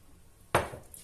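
A spoon stirring a mixture of tomato paste, water and oil in a bowl for lahmacun topping: a single sharp clink of utensil against the dish, then a faint scrape and softer taps in a quiet room.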